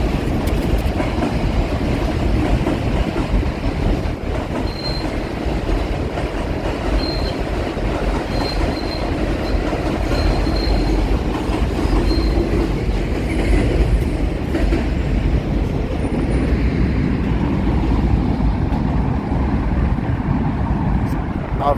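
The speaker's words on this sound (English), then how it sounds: "Goes the subway." A New York City subway train rolls across the Williamsburg Bridge, a loud, steady rumble of wheels on rails with faint squeals, continuous and close throughout.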